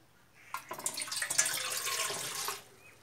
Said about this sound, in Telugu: ఒక గ్లాస్ వాటర్ వేసుకోవాలి